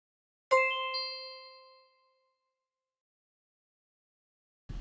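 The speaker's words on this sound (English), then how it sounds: "I guess I actually do have a music box." A single plucked chime-like note cluster from a music box rings out and slowly decays into silence, followed by a faint noise at the end.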